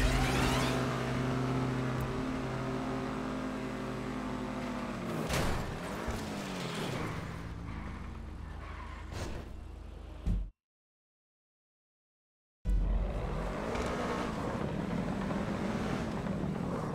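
A car drifts in GTA V Online with a loud, continuous engine drone and tire noise. The engine note shifts as the car revs and slides, cuts to silence for about two seconds, then resumes just as loud.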